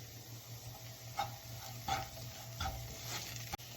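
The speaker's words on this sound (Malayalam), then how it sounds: "ഇതിലോട്ട് ഒരല്പം ഉപ്പ് കൂടി ആഡ് ചെയ്ത് നന്നായിട്ട് ഇളക്കിയെടുക്കാം." Corn meal upma with chilli flakes and salt stirred in a pan, heard as a few soft scrapes over a low sizzle, fairly faint and close.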